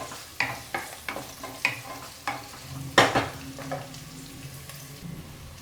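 Capsicum curry sizzles in hot oil as a spoon stirs it in a pan, with a series of sharp scraping strokes over a steady fry, close and clear, without talk.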